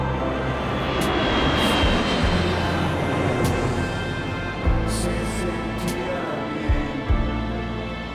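An airplane engine drones loud and steady throughout, a broad continuous roar with a few brief bumps and knocks near the end, and no clear talking.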